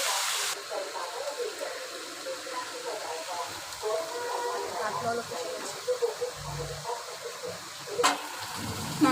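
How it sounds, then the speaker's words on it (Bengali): Meat frying with onions in a pan gives a steady close hiss and sizzle that keeps going without a break. "পেঁয়াজের সাথে এখন মাংসটা হালকা করে ভেজে নিব।"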